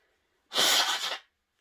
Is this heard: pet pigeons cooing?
no